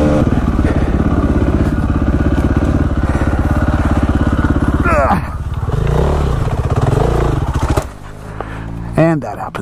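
A KTM 450 SX-F four-stroke dirt bike being ridden, its loud, steady engine drone shifting as the throttle changes, with a rev and clatter near the end.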